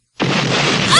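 A sudden loud explosion in an anime episode bursts in after a brief silence, a dense broadband roar that holds steady and swells slightly toward the end.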